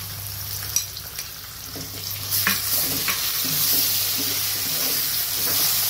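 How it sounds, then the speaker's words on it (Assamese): Spices and turmeric sizzle and crackle in hot oil while a utensil stirs and scrapes the pan, with steady frying hiss throughout. "মছলাখিনি ভাজি লৈছোঁ ভালকৈ"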